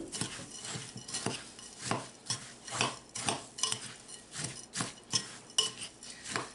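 Crushed pretzels, melted butter and sugar for a pretzel crust are stirred together in a bowl, a spoon scraping and clinking against the sides in a steady rhythm of repeated strokes, close and fairly quiet.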